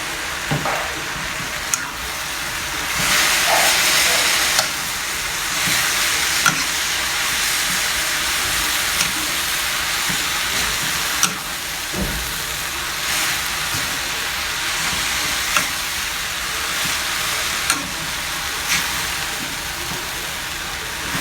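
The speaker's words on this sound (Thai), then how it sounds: "หลังจากที่ผักสุกได้ที่แล้วแม่ก็ใส่วุ้นเส้นลงไปเลยค่ะ จัดไปให้หมดเลย แล้วก็ผัดต่อไปนะคะ" Vegetables and glass noodles for a spring roll filling are stir-fried in a pan, making a loud continuous hissing sizzle with scattered scrapes and taps of the spatula, heard close and alone.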